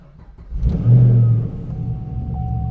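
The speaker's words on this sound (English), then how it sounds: "Let me go ahead and just simply start the engine." Supercharged Chevrolet Camaro SS with a GM Gen 4 V8 cranks and fires up cold, a loud revving surge that settles into a steady idle, close by with no talk.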